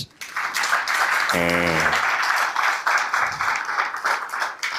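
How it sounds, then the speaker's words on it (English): Audience applause at a book launch, steady and sustained clapping throughout, with a brief voice rising over it partway through. "Please clap for him like you've been inspired."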